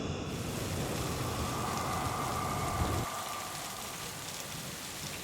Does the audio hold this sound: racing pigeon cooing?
no